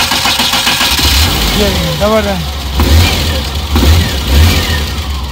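A Suzuki Ravi pickup's engine cranks, catches and settles into a close, rough idle with several throttle blips, while voices talk alongside it at an outdoor car bazaar.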